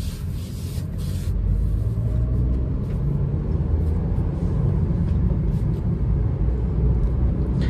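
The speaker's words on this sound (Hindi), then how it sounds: "अब सेकंड गियर में मैंने यू टर्न लिया" A Maruti Suzuki Ignis 2024 BS6 running on an aftermarket CNG kit makes a U-turn in second gear, its engine a steady low rumble heard from inside the car with road noise, with no one speaking.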